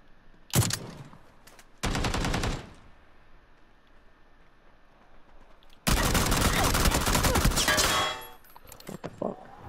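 Bursts of gunfire in a first-person shooter game, from a short single shot to two brief volleys and a longer sustained rapid-fire burst, loud and close, with no talking.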